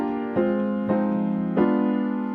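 Piano playing a short harmonized melody, with the right hand voicing full chords on three struck attacks that ring and sustain, clean and close with no talking.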